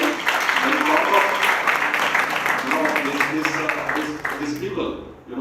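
Loud, sustained audience applause at an academic seminar on Indianising English studies, dense and close, with a murmur of voices mixed underneath before it tapers off sharply at the very end.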